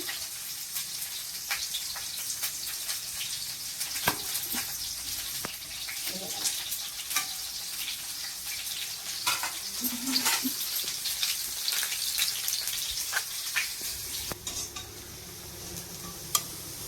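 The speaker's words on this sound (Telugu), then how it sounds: "ఇటు పక్క ఆయిల్ కాగింది, ఉల్లిగడ్డలు వేసుకుంటాం." Onions frying in hot oil for a stuffed bitter gourd curry, a steady soft sizzle with intermittent stirring clatter and scraping against the pan, fairly quiet and close.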